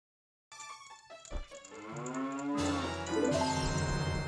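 A cow in a cow cage in a Zelda video game gives a long, drawn-out moo that swells in pitch and loudness, heard close and alone.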